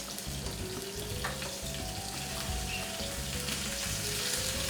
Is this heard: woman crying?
no